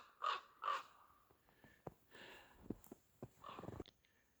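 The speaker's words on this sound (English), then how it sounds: "There's my crow friend back here. He's still following me." Two crows caw in the woods during deer season, with two loud, harsh calls near the start followed by quieter scattered caws and rustling further off.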